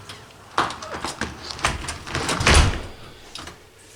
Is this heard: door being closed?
yes